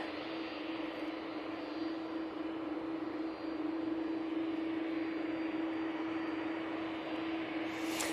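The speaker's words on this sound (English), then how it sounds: "Gulf Air crossing over 2-3 right" A Gulf Air airliner crossing runway 23 right at Manchester Airport makes a steady, moderately distant jet engine hum with one constant droning tone, even in level and alone.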